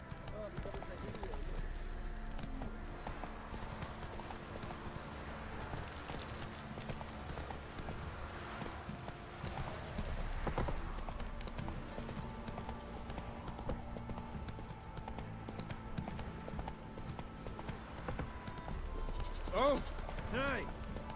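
Horse Roach's hooves clip-clop in a steady gallop rhythm through a Witcher 3 game scene, continuing under game music and ambience while a voice briefly speaks.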